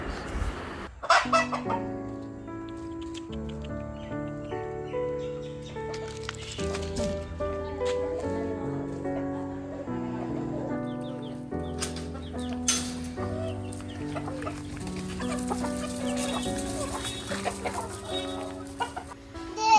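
Several caged roosters cluck and call close by, overlapping one another, with a brief flutter of wings near the start.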